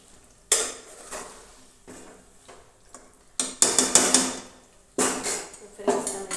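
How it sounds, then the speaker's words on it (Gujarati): A large spoon stirs and scrapes a pan of home-style vegetable curry on the stove, giving close, intermittent bursts of scraping and clinking, louder toward the end. "આપણે જાક નીચે ચમચો લાવતા રહેવાનું જેથી કરીને શાક દાજી ન જાય"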